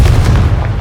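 A Confringo blasting spell going off in the video game Hogwarts Legacy, a single loud, heavy booming burst with deep low rumble filling the whole short moment.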